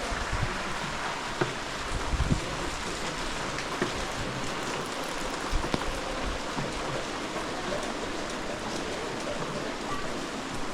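Steady monsoon rain falls heavily on an umbrella at Lava in North Bengal, a dense continuous patter close by with occasional louder drops.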